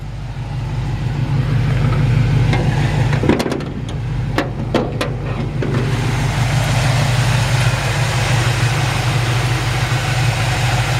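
1951 Ford F-1 pickup with new dual exhaust idling close by, a steady, smooth low rumble throughout, with a few brief clicks partway through.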